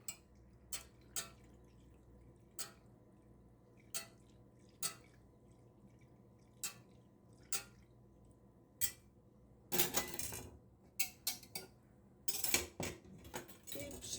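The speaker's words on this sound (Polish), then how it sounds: "Teraz wszystko mieszamy" Spoon stirring homemade yogurt mixture of boiled, cooled milk in a container: sparse, sharp clinks of metal against the vessel at a slow pace, then a quicker cluster of scraping taps near the end, close and quiet.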